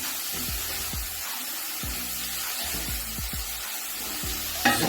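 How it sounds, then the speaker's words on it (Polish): Peas with onion and bacon sizzle and stew in a frying pan, a steady close crackle of frying broken by repeated stirring scrapes and a louder clatter at the end. "I niech to nam się wszystko tutaj pięknie smaży, dusi"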